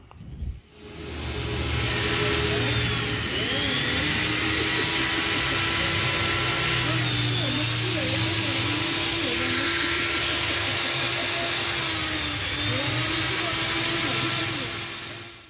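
Hasston Prohex 3150-001 angle grinder running steadily at a loud, continuous whine with a sustained hiss throughout, briefly interrupted by a short knock at the start; people talk over it intermittently.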